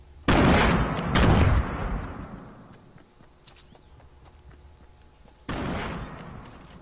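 Gunfire in Fortnite: two loud, close bursts near the start, a quieter lingering tail, then another loud burst near the end, with no talk over them.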